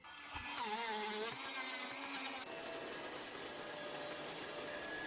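Power tool boring a hole through a homemade slingshot's body and barrel for the trigger, a loud continuous whirring drill tone that shifts pitch partway through and runs steadily throughout.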